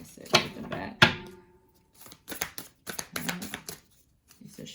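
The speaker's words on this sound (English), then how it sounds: "Let's just shuffle one more time." Tarot cards shuffled by hand in a few quick riffling bursts, close and moderately loud, with pauses between and a voice talking softly over parts of it.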